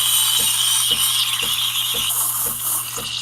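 A Breville Barista Express steam wand hisses steadily as it aerates milk, with a bright, continuous airy rush and a low pump hum beneath, plus faint regular clicks about every half second.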